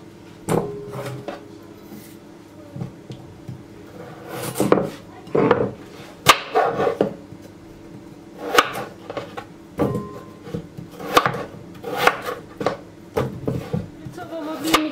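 A knife cuts vegetables into wedge-like pieces on a wooden board, giving irregular sharp chopping knocks and some clatter, fairly close and separated by short pauses.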